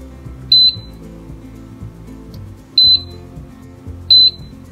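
An air fryer gives three loud, evenly spaced electronic beeps as its timer is set, each short and clear against a quiet kitchen background.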